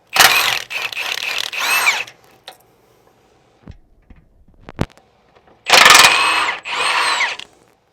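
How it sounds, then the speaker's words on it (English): A power tool loosens screws and a 10mm bolt on the chassis of a 2020-2024 GM 2500/3500 pickup, near the sway bar and idler arm. It runs in two loud whirring bursts separated by quiet clicks and a sharp tap, with no talking. "We're going to go ahead and loosen these screws. And this is a 10mm bolt."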